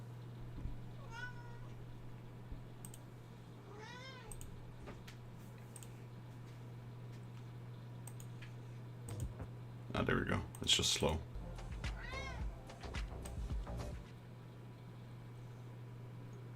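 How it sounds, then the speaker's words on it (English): Pet cat meowing indoors, a few short thin meows spread across the clip alongside a louder burst of cries, over a steady electrical hum with keyboard clicks and someone talking briefly. "Meow. Yeah, that's my cat."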